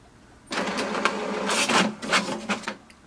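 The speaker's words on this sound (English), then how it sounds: "so you will see printer has printed a page." An HP Deskjet 2700 inkjet printer runs a page through, starting abruptly and whirring and clicking in uneven mechanical bursts for about two and a half seconds before stopping, close and fairly loud with no voices.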